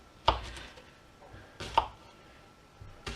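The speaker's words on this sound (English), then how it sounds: "So I'm going to start with my onions. We want to make a nice puree of these. So I'm just going to roughly chop this up." An onion roughly chopped with a kitchen knife on a board, three sharp, well-spaced chops close by, each a crisp thud with a brief ring, in a quiet kitchen.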